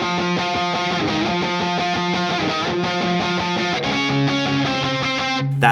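D: Distorted electric guitar plays the unison section of a song's solo, a steady run of sustained, harmonically rich notes that shifts to a lower held pitch near the end, loud and alone without talk.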